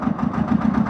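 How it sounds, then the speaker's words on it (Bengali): A river boat's motor throbs in a steady, close, mid-pitched rumble with a regular pulsing beat near Dahapara Dham by Berhampore. "নৌকা স্টার্ট হয়ে গেল।"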